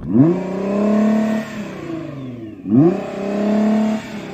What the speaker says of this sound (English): So I'm going to rev up this Nissan.